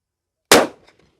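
A single loud gunshot from a .460 Magnum handgun fitted with a GPO reflex sight, one sharp close blast that decays over a fraction of a second into faint echoes.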